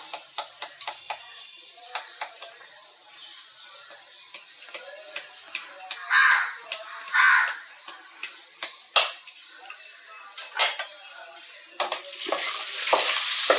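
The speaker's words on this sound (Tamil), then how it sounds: "எண்ணெய் சூடாயிடுச்சு. கொஞ்சமாக நான் பெருங்காயத்தூள் சேர்த்துக்கிறேன்." Asafoetida powder sizzles in hot oil in a pan while a raw mango rice dish is made, with crackling pops and bursts of frying hiss, some louder spurts, and scattered light clinks near the end.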